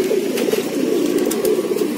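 A homing pigeon kept indoors coos in a low, throaty, repeated rhythm, close and clear with a soft purring warble and faint background hiss.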